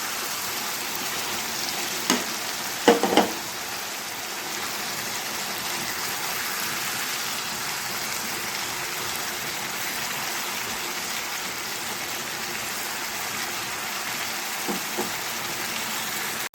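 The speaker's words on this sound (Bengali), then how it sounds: "আদা রসুন বাটাটা একটু কষে হয়েছে এখন দিয়ে দেবো টমেটো বাটা" Ginger, garlic, onion and green chili paste frying with tomato paste for chicken kosha gives a steady, even sizzling hiss throughout, broken by a few light utensil knocks near the start.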